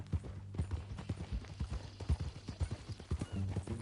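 Horse hooves clip-clop at a steady walking rhythm in a western ranch video game, close and fairly quiet, with a brief whinny and light background sound.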